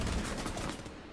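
Rapid gunfire from the video game Rainbow Six Siege, a dense burst of shots packed close together and fairly loud, running steadily for about a second before easing off slightly.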